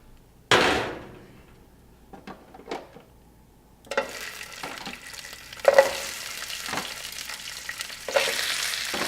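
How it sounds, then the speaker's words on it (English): Shellfish meat sautés in olive oil in a hot pan: a sharp clatter as it goes in, then a few knocks, followed by a steady close sizzle that swells with stirring. "I'm just going to saute them in olive oil for a few minutes till they turn red"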